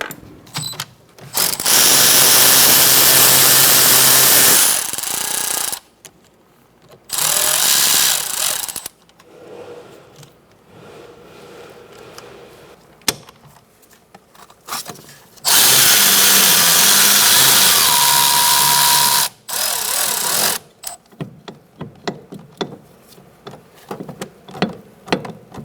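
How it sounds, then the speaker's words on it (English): Power tool driving a 7mm Allen socket on the brake caliper slide pins of a 2004-2009 Mazda 3, heard as several loud whirring ratcheting bursts separated by quieter pauses with clicks and handling noises. "You're going to use a 7mm Allen wrench socket or just Allen wrench."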